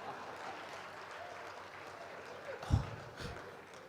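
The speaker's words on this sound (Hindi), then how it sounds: "और आप इतनी बढ़िया ताली बजा रहे हो।" Clapping from the audience at a Hindi poetry gathering in Haridwar, fairly quiet and steady, broken near the end by a couple of louder thumps.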